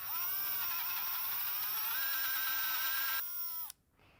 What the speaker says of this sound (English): we're just going to carefully drill on center using the drill guide